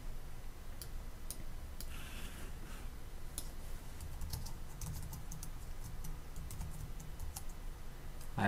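Typing on a computer keyboard at a terminal window, light key clicks in quick irregular bursts over a steady low hum, fairly quiet and close, with no talking.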